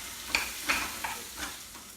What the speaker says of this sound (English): So I'm gonna cook onions for about a couple minutes